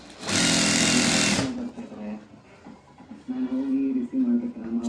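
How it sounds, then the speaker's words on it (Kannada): A sewing machine stitches a blouse in a loud, steady burst of about a second, then stops as someone talks over quieter handling noises. "ಸ್ಟಿಚ್ ಮಾಡ್ತಾ ಇದ್ದೀನಿ"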